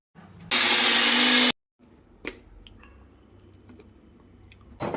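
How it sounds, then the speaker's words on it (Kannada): A kitchen mixer grinder loudly whirs through onion, chilli and garlic in one steady burst of about a second, then stops abruptly, followed by quieter kitchen clatter and handling noises. "ಈಗ ಮಿಕ್ಸಿಗೆ ಹಾಕಿ ರುಬ್ಬದೇ ಇರೋದು"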